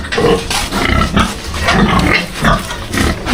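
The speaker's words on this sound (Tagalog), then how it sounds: "Ang mga baboy ni Poto" Pigs at a house grunt and oink continuously, close and fairly loud, with overlapping snorts and no clear talk.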